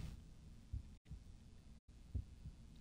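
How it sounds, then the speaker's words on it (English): Heartbeat in the video game Sally Face, a faint, low, muffled throbbing pulse repeating steadily over a dull hum. "I can hear a heartbeat."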